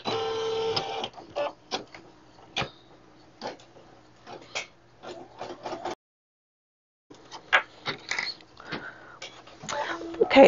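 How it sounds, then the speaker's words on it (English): A Brother PE770 embroidery machine stitches an outline, giving close rapid mechanical ticking and clicking in irregular bursts, with a pause partway through and busier stitching near the end. "it's going to stitch an outline showing me where to place my batting and my front fabric"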